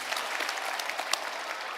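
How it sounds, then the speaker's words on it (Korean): An outdoor festival audience at a film premiere stage greeting applauds warmly, a dense continuous clatter of many hands close and loud, with scattered sharper claps standing out. "박수 부탁드립니다"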